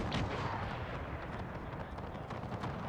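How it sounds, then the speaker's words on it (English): Artillery fire rumbles through a Napoleonic-era mod battle in a strategy video game, a quiet, dense wash of distant booms and crackling gunfire rolling on continuously under the battlefield noise. "Our artillery is focusing in on their troops over here."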